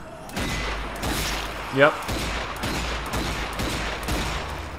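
Repeated pistol shots in the zombie shooter Zombie Army 4, a steady run of muffled pops mixed into busy game noise, with a brief spoken word in the middle.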